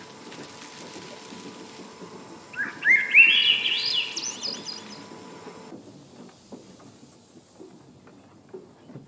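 A bird chirps and trills in a rising burst in the video game Season: A Letter to the Future, moderately loud over a faint ambient background that then drops away to quiet.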